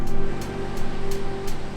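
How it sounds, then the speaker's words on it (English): Surf breaking at a longboard spot, waves of moderate size, a steady washing roar with several short hissy surges as each wave spills over, close and fairly loud with no talking. "I think these waves are gonna work out."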